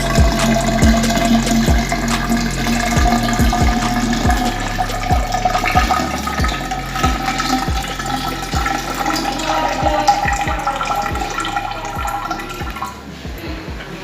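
Water poured steadily from a rain gauge into a glass measuring cylinder, a continuous near trickling stream with faint rhythmic low thumps beneath, running the whole time and easing off at the end.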